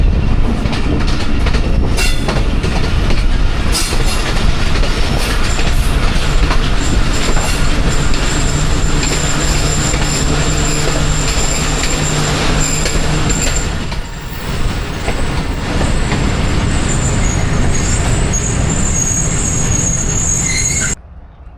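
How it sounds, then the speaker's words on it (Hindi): The 14 Down Awam Express passenger train thunders past at Chak Pirana, a loud steady rumble with rhythmic wheel clatter and faint squeal lasting about twenty seconds before cutting off. "14 डाउन अवाम एक्सप्रेस आ रही है जी"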